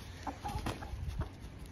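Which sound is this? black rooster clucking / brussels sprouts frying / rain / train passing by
black rooster clucking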